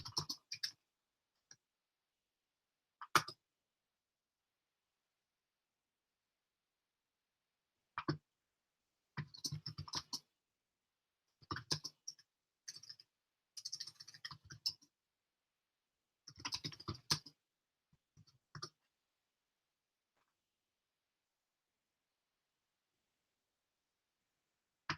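Someone types a git branch command on a computer keyboard: quiet bursts of quick key clicks separated by pauses, close and alone.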